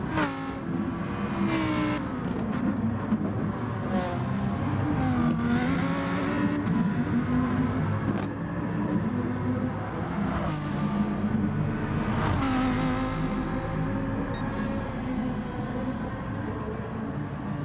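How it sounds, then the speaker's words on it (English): A V8 car engine revs repeatedly in the distance across a road, its pitch rising and falling in waves over a constant rumble. "Sorry about if you can hear that engine across the road."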